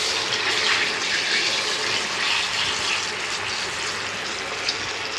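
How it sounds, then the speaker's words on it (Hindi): Fish fries in hot oil in a wok, making a dense, even hiss of sizzling that fills the clip. The sound is close and fairly loud, steady throughout, with no voices. "ऑयल तकरीबन हमारा गर्म हो गया है। अब हम इसमें एहतियात से फ़िश जो है वो डालेंगे।"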